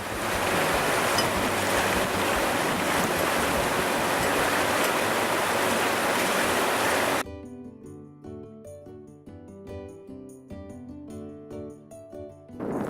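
A boat leaves port onto open water, with loud rushing waves and wind roar filling the first seven seconds before giving way abruptly to music.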